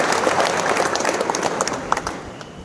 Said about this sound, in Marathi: एकदा जोरदार आपण टाळ्या वाजूया.